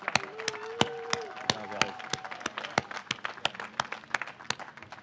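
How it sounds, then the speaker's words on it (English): Scattered, uneven clapping from a modest crowd at the 2019 Long Beach Motorsports Walk of Fame ceremony for inductees Sebastien Bourdais and Will Power, with sharp individual claps over a murmur of voices and a brief whistle-like tone. "please join me in another round of applause for the 2019 inductees into the Long Beach Motorsports Walk of Fame"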